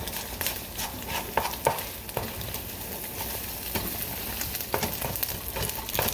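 Food crackles and sizzles steadily in a pan, with scattered utensil clicks and light stirring scrapes over a continuous frying hiss.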